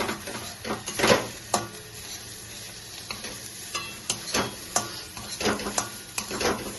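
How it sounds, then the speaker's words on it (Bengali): Bottle gourd seed paste is stirred as it dries in oil in a pan, with a steady sizzle and repeated scraping strokes of a spatula against the metal, loud and close with no voices. "এটাকে নাড়বো খুব ভালো করে"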